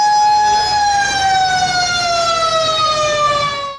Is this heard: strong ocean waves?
no